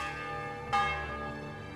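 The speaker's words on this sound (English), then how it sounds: "Church bells ringing." Church bells in the medieval game Kingdom Come: Deliverance strike once sharply and then ring on with a sustained, shimmering tone that slowly decays over a faint ambient background.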